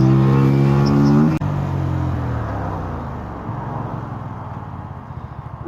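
Car engine heard from inside a vehicle in road traffic, a steady low drone with harmonic engine tones that drop and settle as the car slows, then a continuous rumble; no talk.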